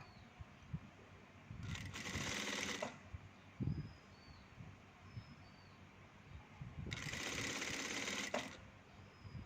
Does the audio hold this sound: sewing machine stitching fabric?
yes